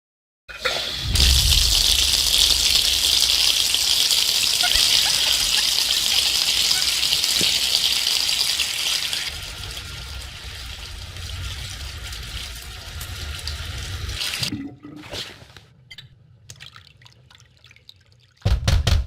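Shower water streams steadily and loudly for several seconds, then drops to a softer flow before cutting off, followed by scattered bathroom clatter and brief voices near the end.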